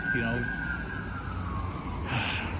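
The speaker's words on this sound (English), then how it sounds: "Yeah, there's an ambulance." An ambulance siren wails steadily under nearby talk, its pitch sliding gradually downward as the vehicle passes, with faint traffic noise in the background.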